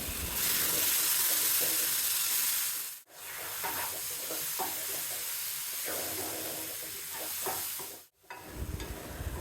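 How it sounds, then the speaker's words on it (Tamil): Onions and tomatoes sauté in a pan for spicy onion chutney, a continuous soft sizzling hiss with light stirring scrapes, broken by two brief pauses, moderately close and fairly quiet. "வெங்காயம் இந்த அளவுக்கு வதங்கினதுக்கப்புறம் வெட்டி வச்சுருந்த தக்காளியும் சேர்த்து இப்போ வதக்கணும்"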